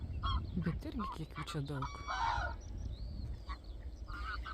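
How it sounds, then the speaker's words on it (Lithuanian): Geese honking outdoors on a March morning, a cluster of loud nasal calls near the start followed by scattered fainter honks, with someone speaking quietly over them. "Ai, čia žąsys."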